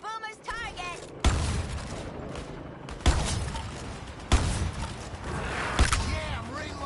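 Gunfire in the Suicide Squad video game, loud sharp shots fired in separated bursts about every one to two seconds, with game voices and effects mixed in between.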